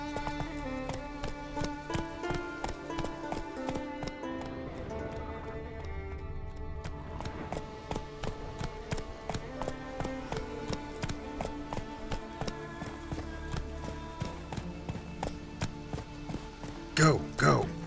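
In The Witcher 3: Wild Hunt, the horse Roach gallops with steady, rapid hoof clip-clops under game music and a voice talking, ending in a louder burst near the close.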